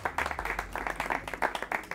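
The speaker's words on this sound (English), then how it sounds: "Let's give her a big round of applause." Audience applause at a live talk, a brisk run of clapping from a modest crowd with distinct rhythmic hand claps, moderately loud and uninterrupted by speech.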